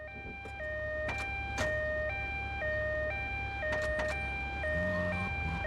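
A video-game ambulance siren from GTA Vice City Stories on PS2 wails in a steady two-tone pattern, alternating pitch about every half second, loud and continuous over low engine rumble with a few sharp bursts.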